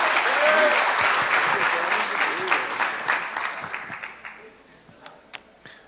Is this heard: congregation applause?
yes